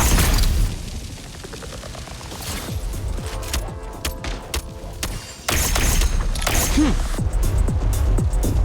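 Grenade blast in the video game Genshin Impact: loud booming detonations and crackling debris open the clip, a rumbling battle bed continues, then another heavy burst near the middle sustains to the end, close and forceful.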